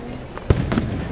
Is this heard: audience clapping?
no